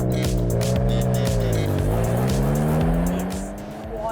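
A Renault Alpine A310 with a PRV engine drives hard, its loud engine note swelling and shifting pitch up close, with a hint of tire noise, before fading slightly at the end.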